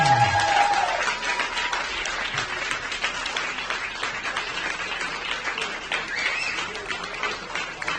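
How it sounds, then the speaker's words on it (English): Applause rises from the crowd at a racing awards ceremony during a grand final at Monza, as third place in the general ranking is announced. The clapping is dense and sustained, with sharp individual claps heard throughout. "giving him a big applause"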